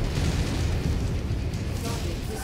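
Heavy, continuous rumbling blasts of missile explosions in the MechWarrior 5: Mercenaries mech combat game, a dense low boom filling the whole stretch with no pause.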